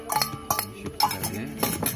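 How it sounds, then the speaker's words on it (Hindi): Fish and bamboo shoot are stirred together in a pan, with a utensil clinking and scraping against the metal in several close, irregular bursts. "मैं सब कुछ मिक्स कर लेगा अच्छा से"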